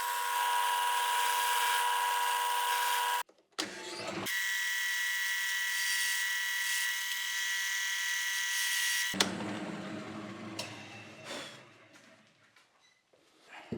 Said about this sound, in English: drill bit or Forstner bit, and drill out these holes